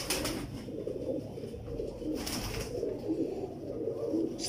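Teddy pigeons kept by a breeder coo continuously at close range, a low rolling murmur of overlapping calls with a couple of brief brighter noise bursts.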